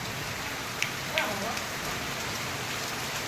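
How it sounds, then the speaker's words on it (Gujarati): Heavy monsoon rain over farmland in a village, a steady dense hiss of falling drops with a couple of brief sharper knocks, continuous and moderately loud with no distinct thunder rumble. "ફૂલ વરસાદ ચાલુ થઈ ગયો છે"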